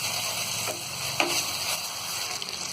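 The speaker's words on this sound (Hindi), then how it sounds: "और थोड़ा सा हम इसे फ्राई कर लेंगे।" Onions and ginger-garlic paste fry and get stirred in a pan, giving a steady close sizzle with a few soft scraping clicks and no talking.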